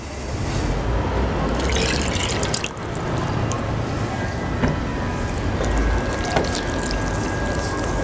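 Water streams steadily into a bowl of vegan açaí cake batter with dry ingredients and oil, a continuous loud splashing pour with a few small clinks, and no talking over it.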